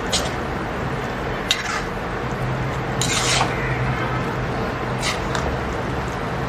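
Mushrooms are mixed with salt in a pan, with a spoon scraping and clinking against the metal in a few sharp strokes over a soft, steady background.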